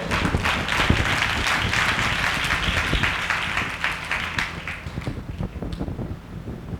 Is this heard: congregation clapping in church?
yes